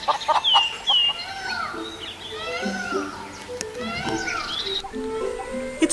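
Grey jungle fowl, a wild ancestor of the domestic chicken, calling at dawn in Kumbhalgarh in India's northwest. Repeated rising and falling calls come fairly close, with other birds chattering in the background.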